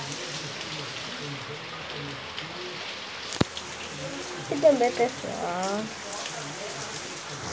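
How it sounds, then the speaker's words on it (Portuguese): Heavy rain falls in a steady hiss throughout, with someone speaking briefly over it and a short sharp click midway. "tá chovendo que sabe, e muito"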